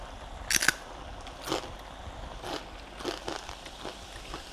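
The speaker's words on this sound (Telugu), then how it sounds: "కరకర వినపడుతుందా?" Crisp rice flour crackers (majjiga chekkalu) are bitten and chewed close up, with one sharp loud crunch followed by several softer, scattered crunches over quiet room tone.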